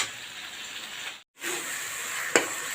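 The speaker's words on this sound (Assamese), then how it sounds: "মছলাখিনি আমি ভালদৰে তেলটো এৰি নিদিয়ালৈকে ভাজি থাকিম" Spice masala sizzles steadily in hot oil for a chicken curry, a close, even frying hiss broken by a brief pause and a short stirring clatter near the end.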